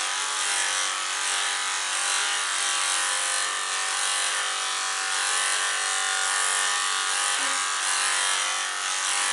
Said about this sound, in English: just bring the clipper up to that